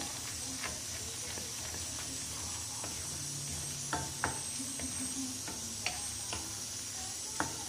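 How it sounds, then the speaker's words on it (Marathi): Okra cooks with masala paste in a pan over low heat, giving a soft steady sizzle and faint hiss, with occasional quiet clicks and taps of a spatula stirring. "याला सुद्धा 1 मिनिट परतून घ्यायचं"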